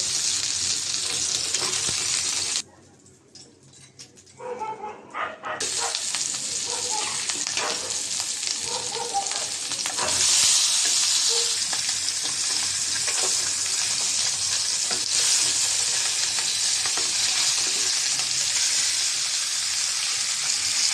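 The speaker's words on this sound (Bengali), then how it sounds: "মাছটা ভাজা হয়েছে, তুলে নেব।" Katla fish frying in hot oil in a pan gives a steady, loud sizzling hiss that dips quieter for a few seconds early on before surging back, with faint stirring clatter and no voices.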